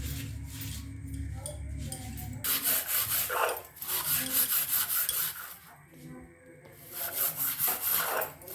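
A gas stove burner coated in Harpic is scrubbed with wire mesh, giving bursts of harsh, close scratching strokes separated by short pauses, with a faint hum and occasional voice underneath.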